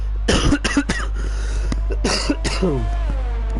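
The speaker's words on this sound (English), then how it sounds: "And I broke my promise because I did say I wouldn't cough." Several short, harsh coughs and throat-clearing bursts up close, mixed with brief vocal sounds over a steady low hum.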